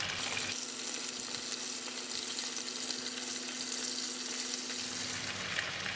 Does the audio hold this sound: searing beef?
yes